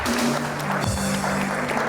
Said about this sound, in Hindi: भाई मॉडल्स के लिए एक बार फिर तालियां बजाइए।